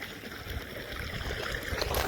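Borewell water gushing out into a farm field, a steady rushing, gurgling flow heard close up and without pause.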